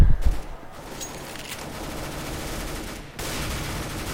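Gunfire in Counter-Strike: Global Offensive Arms Race, a dense rattling burst of automatic shots that runs continuously under the game's background din, with one short break near the end.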